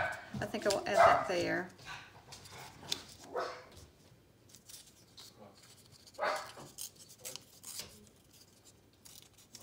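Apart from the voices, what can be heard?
dogs barking indoors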